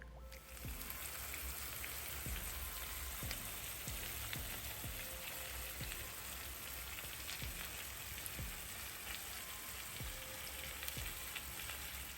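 Honey garlic salmon with onion sizzles steadily under a broiler, a continuous even crackle and hiss with scattered small pops, close and unbroken throughout.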